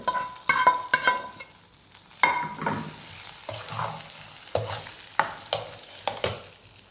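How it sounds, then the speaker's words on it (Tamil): A hot tempering is poured over curd rice and stirred in, making brief sizzles and repeated spoon scrapes and knocks against the vessel, close and unaccompanied by speech. "இப்போ தாலி எடுத்து தயிர் சாதத்தில் கொட்டி நல்லா கலந்து விட்டு"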